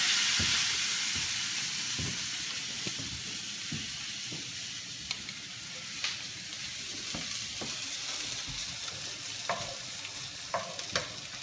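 Hong Kong pan-fried noodles crisp in a hot pan with a steady broad sizzle and hiss, broken by sharp scraping stir strokes and clinks at irregular intervals, close up with no talking.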